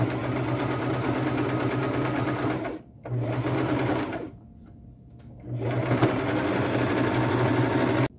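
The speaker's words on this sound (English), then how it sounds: "I'm simply going to stitch along this line. I will use a matching thread and a fairly small straight stitch" Sewing machine running a small straight stitch with matching thread along a line in fabric, sewn twice over: a steady, close mechanical whir that stops briefly twice before resuming, with no talk.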